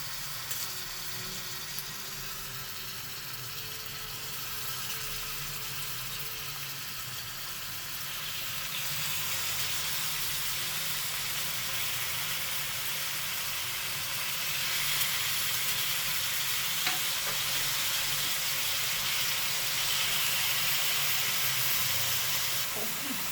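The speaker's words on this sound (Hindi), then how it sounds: "ये मैंने 3-4 चम्मच तेल डाल दिए। अब ये हम बोटी डाल देंगे।" Mutton boti pieces fry in a few spoonfuls of oil on a hot tawa, producing a steady, moderately loud sizzle and hiss that swells midway and keeps going without a break.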